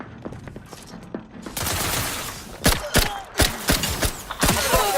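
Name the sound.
gunfire in video game The Outer Worlds 2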